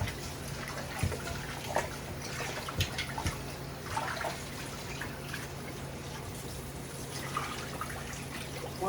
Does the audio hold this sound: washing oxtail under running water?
yes